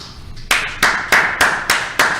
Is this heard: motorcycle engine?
no